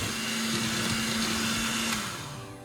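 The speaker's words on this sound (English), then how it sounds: "As the mixer is on, Buddha uses it in a circular and up and down motion to mix the" An electric hand mixer whirs steadily through thick monster cookie dough, a close, continuous motor drone with a strong hum that wavers slightly as the beaters move in circles and up and down, easing off a little near the end.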